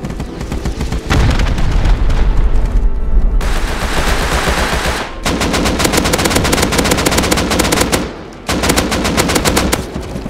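Dense, loud bursts of gunfire from the video game Rust, rapid automatic shots in long overlapping strings with only brief gaps, close and continuous for the whole stretch.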